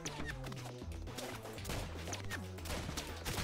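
Quick bursts of gunfire crackle in the video game Rounds, overlapping shots and impacts arriving in rapid clusters over a busy, cluttered game soundtrack, fairly quiet overall.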